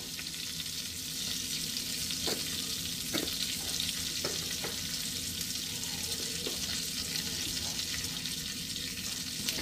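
Bay leaf and cumin seeds frying in hot oil for restaurant-style matar paneer, a steady close sizzle with a few sharp crackles and pops scattered through, no talking.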